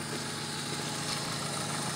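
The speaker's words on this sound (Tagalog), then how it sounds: "Mailit na yung makina" Steady idle of an overheating Honda Civic LXi engine, a close, even mechanical drone with light vibration holding level throughout, no talking.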